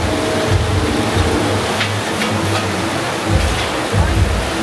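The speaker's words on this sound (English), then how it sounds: "it started pouring outside" Loud, dense rush of heavy rain pouring down outside in Malaysia, a constant broadband hiss with low rumbling underneath.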